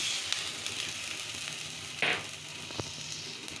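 Potatoes and spices in a pan give a faint, steady sizzle after a little water goes in, with a brief louder hiss burst and a few soft clicks.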